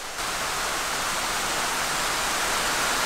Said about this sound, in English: This is the worst rain I've seen so far.